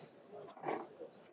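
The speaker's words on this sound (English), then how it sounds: "I spray," Paint sprayer at a painting and decorating trade show misting paint in two close, steady hissing bursts with a brief gap between them, no talking over it.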